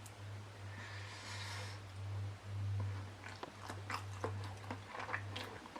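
Someone bites and chews banana dipped in spicy sauce, soft crunchy mouth noises close up over a steady low hum, with no talking.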